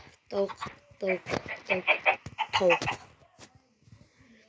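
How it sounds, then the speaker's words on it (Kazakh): A chicken clucks in a quick run of short, bright calls, close and clear against otherwise quiet block-building game audio. "Тауық."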